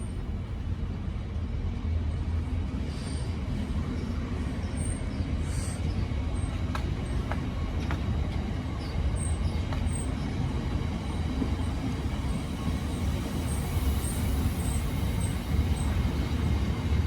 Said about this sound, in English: arriving behind it is the 1351 Great Western Railway service from Weymouth to Gloucester